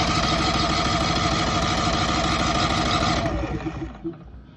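A Westinghouse iGen5000DF dual-fuel generator, set to propane, roars loudly and steadily for about three seconds, then sputters and dies away into near silence.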